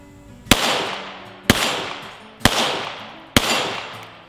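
A Ruger 57 pistol fires four 5.7 rounds about a second apart, each a sharp close crack followed by a decaying outdoor echo.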